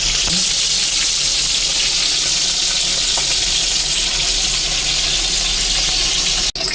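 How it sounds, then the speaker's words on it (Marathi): Paneer pieces fry in a pan until brown for a Kolhapuri veg dish, giving a loud, continuous sizzle and hiss close up throughout, with a brief break near the end. "सगळे पनीर टाकून दिलेलं त्याच्यामध्ये फ्राय करण्याचे ते ब्राऊन होईपर्यंत फ्राय करायचं आहे"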